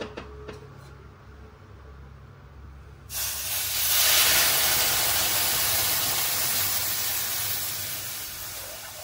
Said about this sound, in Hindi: अब इसमें हम डाल देते हैं दूध।